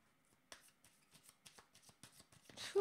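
A deck of playing cards being shuffled and a card drawn, heard as a string of crisp riffling snaps and flicks at close range, ending in a louder flurry.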